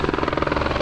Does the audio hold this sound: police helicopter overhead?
yes